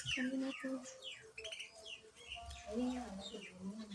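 A pet bird in a cage chirps repeatedly, with short rising and falling tweets and trills, faint and nearby, mixed with low background murmur.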